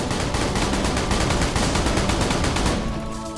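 Rapid, relentless fire from a Jacobs weapon in Borderlands The Pre-Sequel, loud and continuous close shots hammering for several seconds before easing off at the end.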